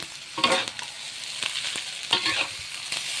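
Rice and egg stir-fried in a pan, with a steady sizzle and several scraping stir strokes of a spatula, close up and with no talking.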